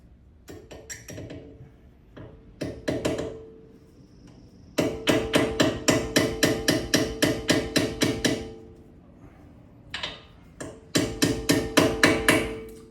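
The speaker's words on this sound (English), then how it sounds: "Actually, I can hammer this one through. So I'm just going to hammer this." Metal hammer strikes ring out in quick bursts as a pin is driven through an Aston Martin Vantage brake caliper, a few scattered taps then long steady runs of sharp, loud blows, close by with no talking.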